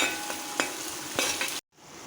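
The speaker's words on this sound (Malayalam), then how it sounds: "ഇഞ്ചി വെളുത്തുള്ളിയും ചതച്ചതാട്ടോ നന്നായിട്ട് വഴറ്റിയെടുക്കാം" Crushed ginger, garlic and curry leaves sautéing in hot oil, a loud steady sizzle punctuated by several sharp spoon-against-pan stirs, then a sudden brief silence before quieter frying resumes.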